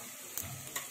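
Garlic sautéing in a pan for corned beef pizza bread, a brief, faint, continuous sizzle broken by two light stirring scrapes, heard close with no speech.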